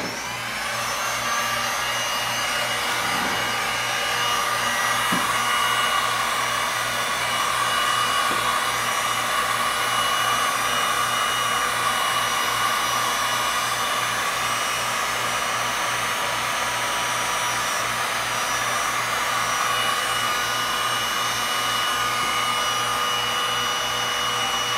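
Heat gun or dryer blowing to warm clear resin on a cradle board, a continuous steady airy whir that holds at close range with only slight variations throughout.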